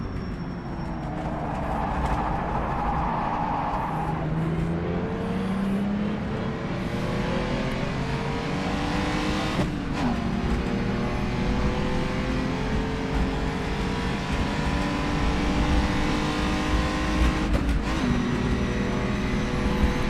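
Ferrari race cars in a racing video game screaming past at full speed around Mount Panorama's Conrod Straight, a steady loud engine whine with rising and falling pitch as gears change and cars pass, no talking.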